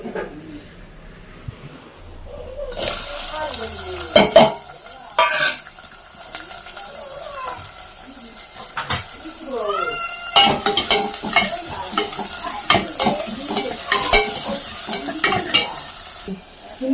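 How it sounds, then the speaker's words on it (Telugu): Onion, green chili and tomato pieces fry and sizzle in oil that was used earlier for frying, with repeated stirring scrapes and clatters. Birds coo and call in the background of a village kitchen. "దీంట్లో ఉల్లిపాయ పచ్చిమిర్చి టమాటా ముక్కలు అయితే వేపుకున్నాం"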